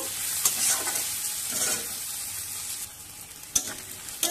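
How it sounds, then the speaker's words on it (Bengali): Onions with whole garlic cloves frying and being stirred in a pan for a rohu fish dish, a steady close sizzle throughout with a few brief scraping stirs. "এবার পেঁয়াজের সঙ্গে 6-7টা গোটা রসুন করে দিয়ে দেব।"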